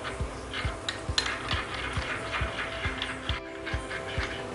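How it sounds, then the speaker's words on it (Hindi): A spoon stirs chicken 65 sauce mixture in a pan with regular clicking scrapes about twice a second, close and quiet, with a faint sizzle underneath. "अच्छी तरह से मिक्स करेंगे"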